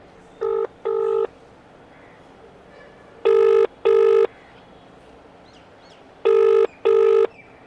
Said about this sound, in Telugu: ఫోన్ రింగ్ అవుతా ఉంది